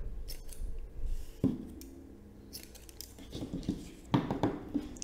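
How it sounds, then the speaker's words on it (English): Scissors snip through lengths of crochet yarn in a few quiet, crisp, close cuts spaced apart, with light handling rustle between them. "just cut a few 6-inch yarn like this."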